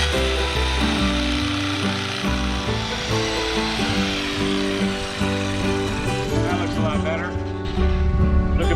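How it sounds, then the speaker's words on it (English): A reciprocating saw cuts small branches and burrs off an old tree stump outdoors, its motor buzzing in uneven bursts with pauses and restarts, fairly loud and close. "Just get your reciprocating saw. It does everything you need it to do."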